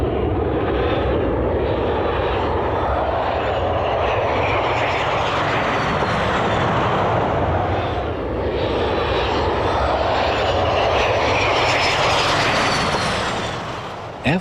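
Lockheed F-117 Nighthawk stealth jet passing with a loud, continuous engine roar and broad rumble, rising and falling slightly as it moves, with a faint high whine riding on top and no voices.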